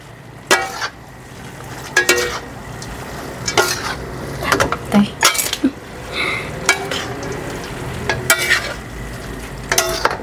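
Softened bihon rice noodles are stir-fried in a pan, with repeated loud utensil scrapes and clinks over a continuous sizzle, close and rhythmic throughout.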